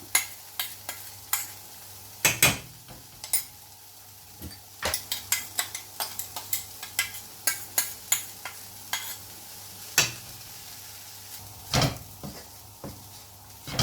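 A spatula repeatedly scrapes and taps a pan while stirring a coconut and green gram mixture, giving irregular sharp clinks and scrapes over a faint low hum, close and distinct, with no talking.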